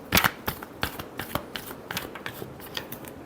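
Tarot cards shuffled by hand in a quick irregular run of crisp riffling bursts and soft slaps, close and fairly quiet, with no voice.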